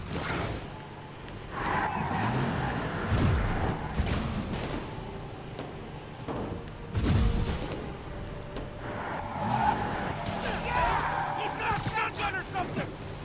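Car chase in the Spider-Man video game, with engine roar and tire skids and screeches swelling in bursts over busy game sounds and music, while a voice talks over much of it.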